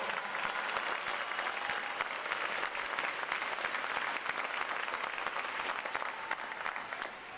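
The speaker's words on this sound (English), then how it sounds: "I want to say a round of applause for family and friends" A crowd claps steadily for several seconds at a U.S. Navy boot camp graduation, a dense, sustained round of applause that neither swells nor fades much.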